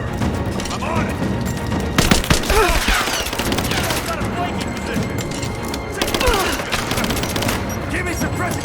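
Game gunfire from a Rise of the Tomb Raider firefight, with dense sustained bursts and heavy booming shots that surge around two and six seconds, continuous and loud, while combat voices call out over the shooting.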